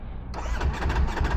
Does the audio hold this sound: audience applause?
no